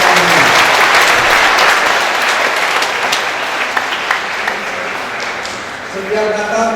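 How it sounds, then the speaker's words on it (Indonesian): Loud, close audience applause for Romo Sarmono at a Christmas Eve gathering, a dense wash of clapping that slowly thins while a voice begins speaking near the end. "Tepuk tangan dulu untuk Romo Sarmono"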